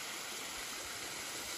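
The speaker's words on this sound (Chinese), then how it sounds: "走到这里又看到一个瀑布" Steady rushing water from a waterfall at the Huanglong scenic area in Sichuan, a continuous broadband roar with no breaks, heard alone without voices.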